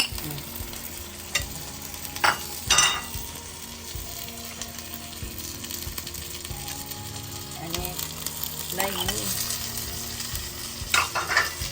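Pork belly fries in a pan for Thai palo stew, with a soft ongoing sizzle broken by scraping, clattering stirs of a utensil against the pan.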